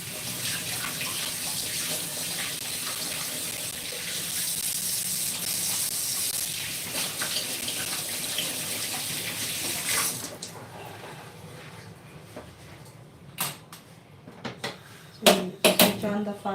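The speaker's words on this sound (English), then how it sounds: "Let me wash my hands and I'll join you back." Kitchen tap water pours steadily into a sink for about ten seconds during hand washing, then stops, followed by scattered clinks and knocks of handling.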